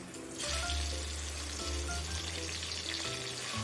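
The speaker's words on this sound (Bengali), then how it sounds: "একইভাবে কুমড়োগুলোকেও নুন আর হলুদ দিয়ে ভেজে নেব।" Pumpkin pieces fry with salt and turmeric, a steady close sizzle swelling after a brief quieter opening, with occasional stirring sounds and a low background hum.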